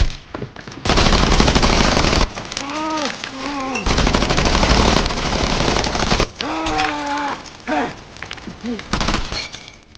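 Dense machine-gun fire from an action movie gunfight, heavy sustained bursts filling most of the scene, mixed with shouting voices and score, loud and close throughout.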